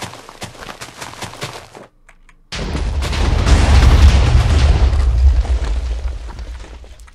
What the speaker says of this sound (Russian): Заминируем подвал. Нафиг его взорвем тоже.